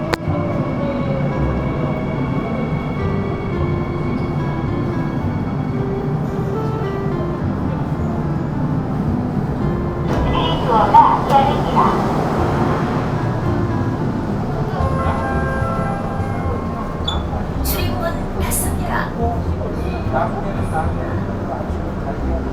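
A Seoul subway train rumbles and hums steadily throughout, with a brief surge of rushing noise midway and a few sharp metallic squeals and clicks near the end, while people talk over it.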